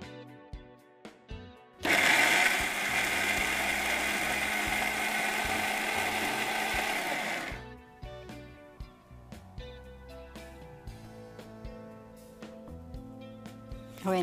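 A kitchen mixer grinder crushing a batter made with sour yogurt and water whirs loudly and steadily for about six seconds, then stops, leaving quieter clinks and handling noises.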